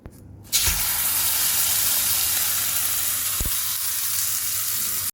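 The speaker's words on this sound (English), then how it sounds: "We'll be putting this on the grill now." Plant-based fake meat hits a hot grill and sizzles at once, a loud, steady hiss that holds without a break, with one small knock partway through.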